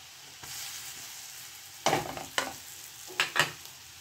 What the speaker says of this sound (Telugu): దీన్ని బాగా మనం మిక్స్ చేసుకొని ఒక 2 minutes స్మెల్ పోయే వరకు ఫ్రై చేసుకోవాలి.